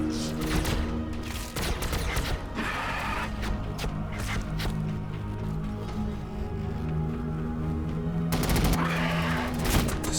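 Bursts of gunfire from a Warhammer 40,000 Battlesector Blood Angels battle, sharp shots and rattling volleys scattered across a dense, continuous wash of combat noise and background music.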